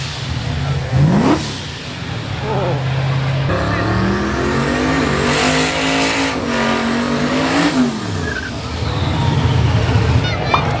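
Squatted truck engine revving hard to 7,000 RPM at a drag race in Mobile, a loud sustained roar that climbs and falls in pitch, with crowd noise and shouting voices mixed in.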